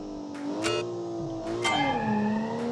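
An inline-6 turbo engine in an all-wheel-drive manual hatchback accelerates in a racing video game. Its close, loud drone climbs in pitch, briefly changes tone at each of a few quick shifts, then keeps revving upward.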